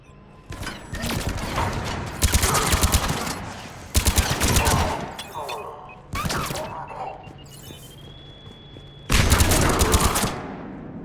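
Gunfire in Mass Effect 3 comes in several loud bursts of rapid automatic shots separated by short lulls, with faint background game sounds between volleys.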